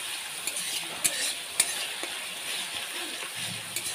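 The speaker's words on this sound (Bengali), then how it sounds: "আরেকবার আমি লেড়ে দিচ্ছি" Spices fry in oil in a pan with a continuous sizzle while a spoon stirs them, its scrapes and taps against the pan landing at irregular intervals.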